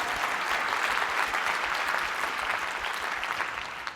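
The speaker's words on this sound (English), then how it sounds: "And, yes, you can clap for that." Steady, full applause from a large conference audience at an opening plenary session, a dense wash of many hands clapping at a moderate level that eases off slightly toward the end.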